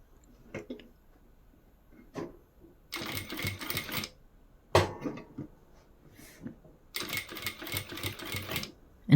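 A sewing machine stitches down the top panel of a fabric bag along a crease in a series of close, loud bursts of rapid whirring, separated by short pauses and quiet handling sounds.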